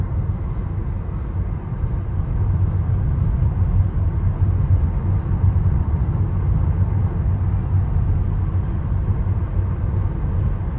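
Tesla car driving itself on Full Self-Driving beta through a residential neighborhood, heard as a steady low road and tire rumble from inside the cabin, continuous and even throughout with no speech.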